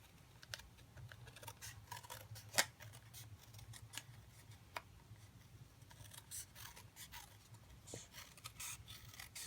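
Scissors trimming a piece of watercolor paper for a stamped card, with quiet, irregular snips and light paper scrapes close by over a low steady hum, no talking.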